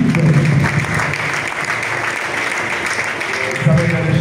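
A church congregation claps together in praise, a loud sustained wash of applause filling the room, with voices heard over it.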